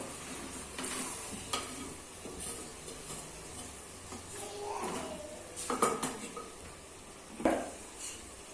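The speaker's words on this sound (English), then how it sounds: "And stir it properly" Chicken curry being stirred in a pot, with a spoon scraping and clinking against the metal in scattered strokes over a soft sizzle, a few louder knocks standing out near the end.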